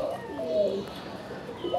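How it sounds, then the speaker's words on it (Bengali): Soft, low coos from a pair of local Deshi Golla pigeons sound close by, one rolling call early and another starting near the end, with quiet background noise between. "এটি হচ্ছে এক জোড়া আমাদের নর্মাল দেশি গোল্লা কবুতর"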